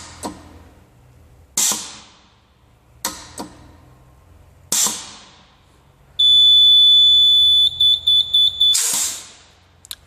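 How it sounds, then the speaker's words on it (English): Autonics automatic tyre inflator giving its buzzer after inflating a tyre, a loud continuous electronic buzz then a series of short pulsed beeps, between sharp bursts of hissing air. "the machine will give a buzzer sound also"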